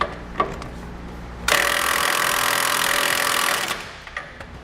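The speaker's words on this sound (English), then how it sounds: "We'll tighten down all of our smaller bolts with 3/4-inch sockets and wrenches." A few sharp metallic clicks, then a loud continuous buzzing whir of a power wrench running bolts tight with 3/4-inch sockets for about two seconds, close up, during a gooseneck hitch installation on a 2009 GMC Sierra.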